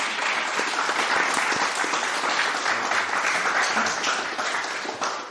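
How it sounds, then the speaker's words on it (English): An audience gives sustained applause after a talk on decentralized governance, a dense, even wash of many hands clapping that holds steady and then begins to fade at the end. "Please give a huge round of applause for Balaji and Glen."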